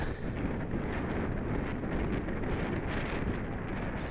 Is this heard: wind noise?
yes